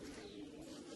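Faint, continuous pigeon cooing drifts from a flock of club pigeons in a loft, a low murmuring hum with no distinct breaks and no speech.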